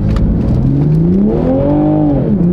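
A stock Toyota Supra on a freeway entrance revs up in one loud, sustained pull, the engine note rising, dipping and climbing again, with no talk over it.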